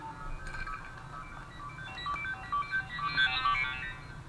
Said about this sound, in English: I turned my phone off, but apparently the alarm is still going.